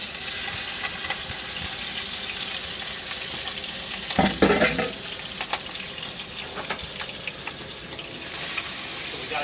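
Chicken pieces cooking in a scalding hot pan for sesame ginger chicken: a steady, close sizzling and frying hiss, with a brief louder burst of spatter and stirring midway and a few sharp pops after.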